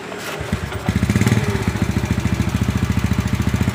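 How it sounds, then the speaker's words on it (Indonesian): A Yamaha Jupiter motorcycle with an intermittent ignition fault is kick-started and catches, settling into a loud, close, rapid putt-putt idle with a steady pulsing beat that runs to the end. "Terus kita coba bunyikan motornya bro."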